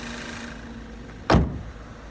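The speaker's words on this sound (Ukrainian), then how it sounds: "Двигун працює рівненько. без посторонніх шумів." A Volkswagen car engine idles with a steady, smooth low hum, broken midway by a brief loud clunk like a door or latch.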